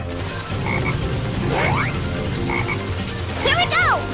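A black frog from the Sonic Heroes video game croaks in a few distinct calls, some with rising, warbling chirps, loud and close with no talking.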